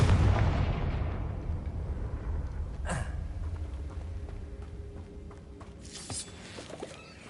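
Confringo fire spell explosions in the Hogwarts Legacy video game hit with a deep booming blast at the start, followed by a sharper burst about three seconds later and another near six seconds, over a fading rumble.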